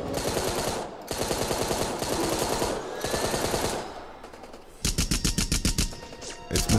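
Loud automatic machine gun bursts from the Rambo video game: a long rattling volley at the start, a brief lull with distant effects, then another sharp rhythmic burst near the end.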